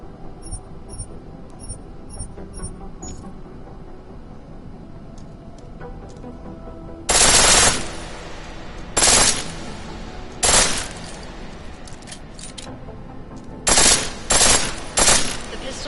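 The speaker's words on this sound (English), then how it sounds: "The pistol in full auto will take down targets fast, but it'll burn through your ammo" A pistol fires in full auto in Deus Ex in several short, loud bursts of rapid shots, each separated by a pause. Faint beeps come first and light background noise sits between the bursts.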